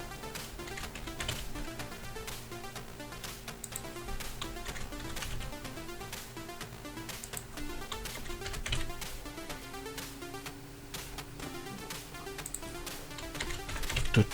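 Rapid clattering keystrokes on a new computer keyboard, steady close typing bursts with occasional louder key hits, continuing without talk throughout.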